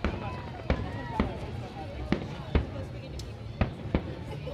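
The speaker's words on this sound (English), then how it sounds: "We heard like a firework sound" Fireworks pop near Waikiki Beach in sharp, scattered bangs, about eight distinct reports spread over a few seconds at moderate distance, with faint background chatter.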